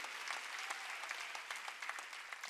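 A church congregation claps together during a Wednesday worship service, a dense, steady patter of many hands, moderately loud and continuous throughout.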